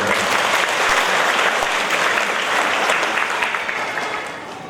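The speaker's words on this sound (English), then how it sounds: "A round of applause for them." A congregation at a healing Mass in a chapel gives a round of applause for the staff, lay ministers, reader and choir, sustained loud clapping that gradually fades toward the end.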